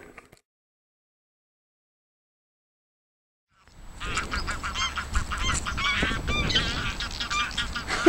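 Greylag geese honk loudly and close by Loch Shiel at Glenfinnan, a busy overlapping chorus of calls that starts abruptly after several seconds of near silence and keeps going to the end.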